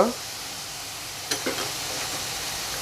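Asafoetida, turmeric and masala spices hitting frying onions in a pan for paneer masala, a steady close sizzle with a couple of sharp clinks and stirring scrapes partway through.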